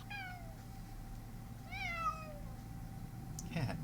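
A cat meows during a Tomb of Annihilation tabletop session: two drawn-out, wavering meows, the second rising and falling, fairly faint over a low background hum, with a brief sharp noise near the end.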